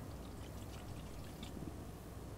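Coconut vinegar being poured steadily from a bottle into a dish while cooking red snapper, a faint continuous trickling stream with no talk over it.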